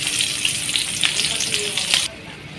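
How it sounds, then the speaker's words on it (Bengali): Onion and green chilli hitting hot oil in a village kitchen wok, a bright close sizzle with sputtering pops that cuts off abruptly after about two seconds. "এখন এই তেলে এই পেঁয়াজ আর কাঁচামরিচ দিয়ে দিই"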